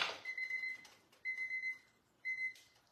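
Three bursts of a steady electronic oven timer beep at the end of baking a pancetta and goat cheese tart, each tone held for about half a second, clear and fairly close in a quiet kitchen.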